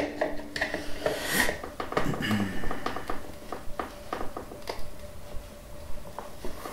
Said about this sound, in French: je fais une petite marque dans le saladier avec mon tournevis que je tourne